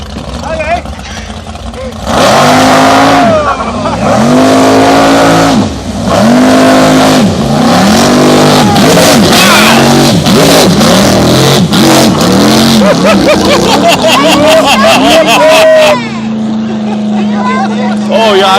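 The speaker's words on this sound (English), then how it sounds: "He actually got all the way out of the water, and the engine ran out of water. You can hear the pop." A high-powered custom jet boat on the Pitt River roars loudly, its engine rising and falling through repeated revs, then rattles with rapid pops before settling into a steady idle, while voices talk over it.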